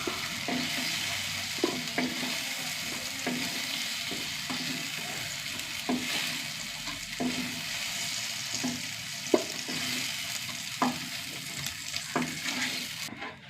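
Onions and tomatoes sautéing in a pan give a steady broadband sizzle, broken at intervals by soft scraping and stirring knocks, close and with no voices.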